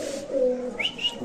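A single brief, throaty coo from large caged pigeons at a Bangladeshi market, followed by two quick high chirps at close range.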